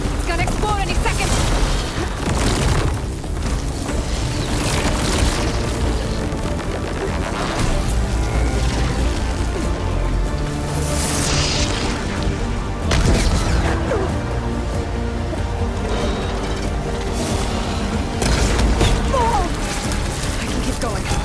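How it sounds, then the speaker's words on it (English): A plasma-charged machine in Horizon Forbidden West blows up among repeated loud booms, crashes and mechanical clatter over a dense, continuous game soundscape, with a voice talking at points. "It's gonna explode any second."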